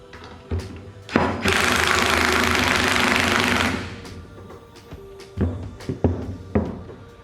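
An ARES 15050 internal coil spring compressor, driven by a power tool, compresses a vehicle suspension coil spring with a loud, steady mechanical whir of about two and a half seconds, framed by clanks and knocks of the tool before and after.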